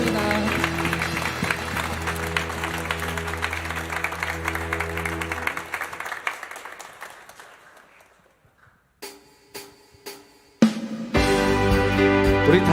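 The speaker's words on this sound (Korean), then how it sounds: "우리 주님께 영광의 박수 올려드리겠습니다." A church congregation applauds during worship while sustained keyboard chords play. The clapping and music fade to near silence, then scattered sharp claps lead back into loud music.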